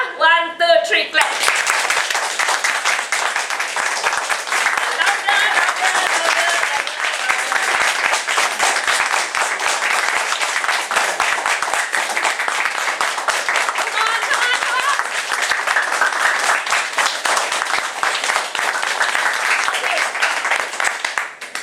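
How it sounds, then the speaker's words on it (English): A seminar audience claps together on a count, producing loud, dense, continuous clapping with a steady rhythm that holds for about twenty seconds, after a brief voice at the start. "Okay, let's go, 1, 2, 3, clap."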